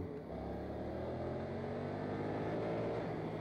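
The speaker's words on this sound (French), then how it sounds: "je baisse la poignée d'un seul coup et la moto accélère progressivement" BMW F900R motorcycle, a 2022 model, accelerating steadily and progressively with a full throttle opening, a continuous engine drone holding close and loud throughout, with no speech.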